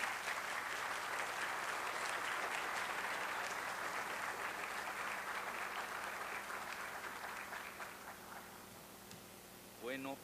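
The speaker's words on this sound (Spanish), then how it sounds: "Vamos a darle un aplauso" Lecture audience in Lagos de Moreno gives sustained applause, a dense wash of clapping that slowly thins and fades over about nine seconds.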